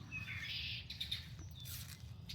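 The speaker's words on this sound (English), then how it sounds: "watch these birdies and see if they are coming" Wild birds chirping faintly outdoors in Cleveland, a handful of short high tweets over a low steady hum, with no voices.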